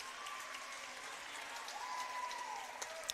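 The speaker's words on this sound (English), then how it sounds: "Big round of applause for everybody here in the girls 200 medley relay." Applause from spectators at a high school district swimming meet, moderately distant and continuous, with a faint whistle-like tone running through the crowd noise.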